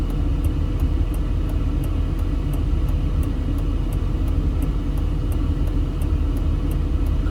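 Car driving through Las Vegas away from the Strip, a steady loud road rumble and engine drone with a faint regular ticking running throughout.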